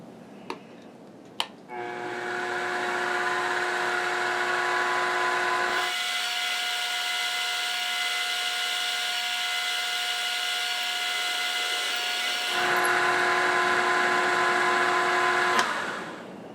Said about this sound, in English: I'm just going to tap drill this for M5